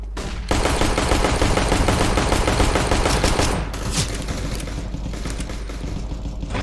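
Rapid automatic gunfire from Counter-Strike: Global Offensive in a ranked match, loud and dense bursts for about three seconds, then quieter in-game shots and noise continuing, with no talk.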